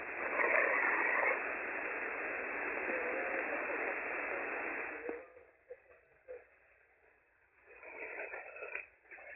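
Steady hiss of HF ham radio receiver static with the noise canceller switched off fills the first several seconds, then drops to quieter, uneven crackling and faint noise bursts.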